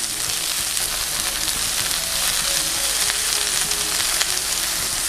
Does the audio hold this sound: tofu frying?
yes